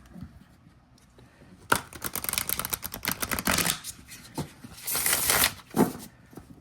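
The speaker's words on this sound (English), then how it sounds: "Let's see how it shuffles. Riffle." A tarot card deck with flexible, satiny cardstock is riffle shuffled close to the mic, giving two dense bursts of rapid fluttering card clicks with a brief pause between them and no talking.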